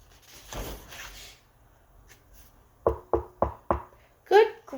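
A door is knocked on four times in a quick, sharp series, close and distinct, with a child-oriented storytelling voice speaking before and briefly after.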